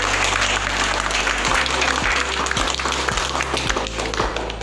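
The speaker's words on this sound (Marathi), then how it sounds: "मी शाळेच्या आणि संस्थेच्या वतीनं रतनदा टाळ्या वाजून त्यांचं स्वागत करतो." A school audience claps in a dense, sustained burst of applause to welcome a visiting group at Matimand School in Aros, Sawantwadi, with a few soft low thumps recurring under the clapping.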